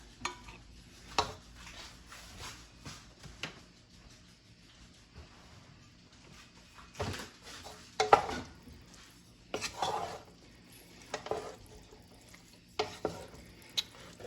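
A spoon stirs pasta sauce in a pot, quiet scraping and clinking knocks coming in scattered bursts against a low, faint background, with no talking.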